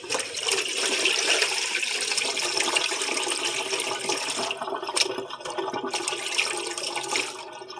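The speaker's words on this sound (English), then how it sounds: "The water is full. Let's just dump out." Water gushes and splashes steadily for several seconds as a full pot is emptied, a loud continuous pour that briefly dips before surging again and tapering off.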